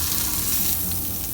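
Breaded chicken breast fries in hot oil in a pan, giving a steady, close, dense sizzle and crackle that stays loud and even throughout, with no talking.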